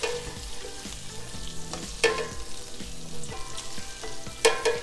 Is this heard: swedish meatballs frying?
yes